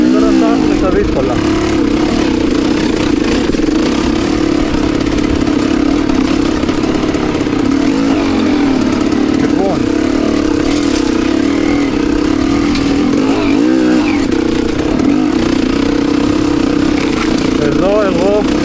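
An enduro motorcycle sits close by on a rough climb, rumbling at idle with repeated throttle blips and revs. The loud, continuous engine drone rises and falls throughout.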